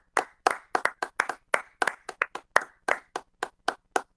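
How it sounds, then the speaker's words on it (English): A small group at a county Board of Commissioners meeting gives a sparse round of applause, roughly twenty distinct, close claps in an uneven rhythm with clear gaps between them. "How about all of us give a big round of applause to you?"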